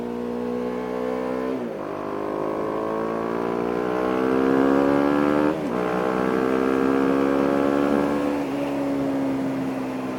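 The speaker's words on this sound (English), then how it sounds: "We're gonna second gear pull." A BMW G 310 R motorcycle pulls hard in second gear, its engine note climbing steadily in a loud, continuous rising drone with a brief dip partway through, heard alone without talk.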